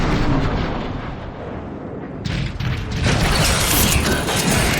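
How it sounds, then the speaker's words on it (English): Warp cannons shelling the Ark in the Transformers: Fall of Cybertron video game, heard as a dense rumbling barrage of heavy blasts and mechanical clatter that swells louder partway through, with no voices over it. "Optimus, there are 3 warp cannons shelling the Ark."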